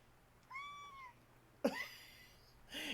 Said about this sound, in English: She just got up on my footstool and looked at the microphone and meowed.